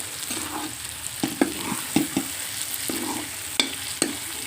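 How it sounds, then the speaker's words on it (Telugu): Small eggs fry in a pan for a curry, a constant sizzle broken by several sharp spatula knocks and scrapes against the pan at irregular intervals. "శుభ్రంగా బాగానే వాసన పోయేంత వరకు వేయించేయాలి ఇది"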